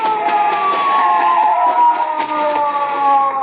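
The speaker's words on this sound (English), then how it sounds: "The police car." A wailing police car siren from an old-time radio drama holds a steady, loud, continuous tone throughout, close and unbroken.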